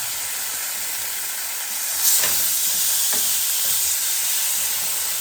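Steak sears hard in a hot pan just after its first flip, giving a loud, continuous close sizzle with a brief louder flare and a few soft scrapes or taps, and no talk.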